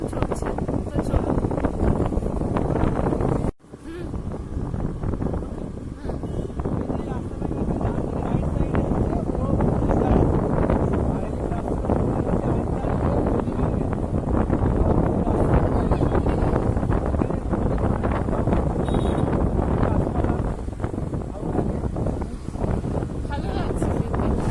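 A scooter bike rides along a green, open road under construction, with steady heavy wind buffeting the microphone throughout and a brief dropout early on.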